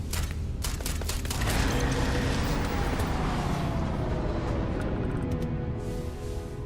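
Gunfire in the Starfield video game, a quick cluster of sharp shots at the start followed by a sustained rattling, crackling din that holds steady and loud to the end.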